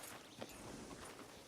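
Horse hooves walking in a ranch roleplay video game, soft faint clip-clop steps at a steady walking pace over a quiet hiss.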